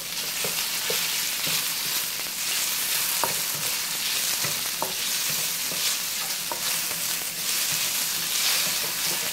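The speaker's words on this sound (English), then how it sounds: "you want to throw in whatever meat you chose to do your stir fry with" Meat frying in sesame oil for a keto stir fry, a continuous close sizzle with intermittent clicks and scrapes of a utensil against the pan, alone without talk.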